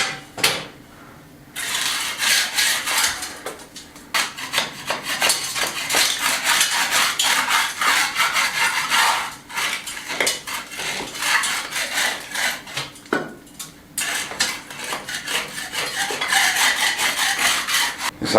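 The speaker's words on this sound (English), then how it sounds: "I'm going to throw a sheet over the rail and give it a scrape" Flaky, salt-crusted plaster is scraped off the damp wall of a 150-year-old Spanish finca, heard as repeated close, gritty rasping strokes in an irregular rhythm.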